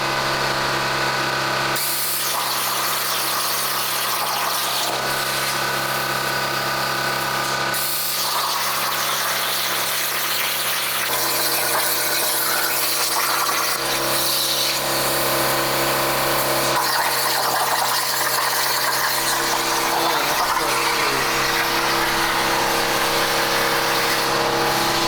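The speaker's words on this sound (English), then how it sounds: "compressor is on, so you probably can't hear me." An air compressor running nonstop in a workshop where custom camber parts are being fabricated, a loud, steady broadband roar that stays level throughout and covers any other sound.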